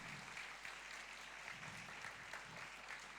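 Students and teachers clap for graduating Secondary 6 students at a school farewell assembly in a hall, a faint, steady patter of many hands that carries on through the whole stretch.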